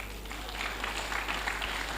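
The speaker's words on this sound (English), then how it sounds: "please clap for yourselves" Steady applause from a crowd in a hall at an induction ceremony, a dense wash of clapping that holds at an even level for the whole two seconds.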